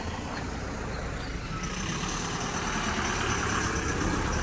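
Several vehicles idle nearby on the way to a gurukul, a dense, steady engine rumble with broad road noise throughout, loud and unbroken, no voices.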